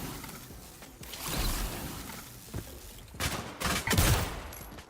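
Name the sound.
AZV 100 rifle burst fire in video game Off the Grid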